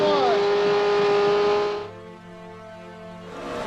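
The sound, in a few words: NASCAR race car engine, onboard in Montoya's car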